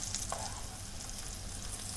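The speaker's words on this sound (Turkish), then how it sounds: "Şimdi bunları da kızartıyoruz güzelce" Steady, dense sizzling of bonito fish patties frying in hot oil, a continuous crackling hiss with no talking.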